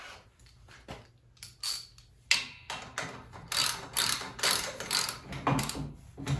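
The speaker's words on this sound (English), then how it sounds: "And then tighten up these nuts." Rapid ratchet clicks in short bursts as nuts are tightened on the steering column of a Locost 7 kit car, close and crisp, with brief pauses between strokes.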